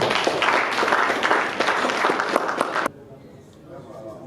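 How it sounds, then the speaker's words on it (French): Crowd applause at a public event about a Cameroonian development project, many hands clapping steadily and fairly loud for under three seconds before cutting off abruptly into quiet. "Mais ça mérite des applaudissements."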